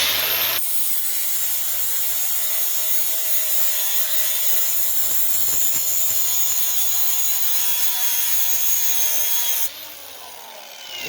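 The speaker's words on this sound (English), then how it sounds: "We're going to take our 80 grit flapper wheel, and we're going to just work it a little bit" Milwaukee grinder fitted with an 80 grit flap wheel grinding steel, a loud steady high-pitched whine with rough abrasive grit held for about ten seconds, then stopping near the end.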